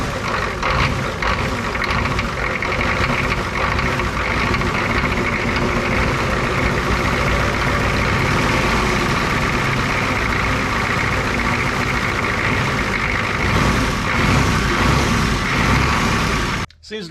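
A Ford F350 diesel with twin turbochargers idles steadily up close, a smooth, even low clatter and hum running unchanged for the whole stretch before cutting off abruptly at the end.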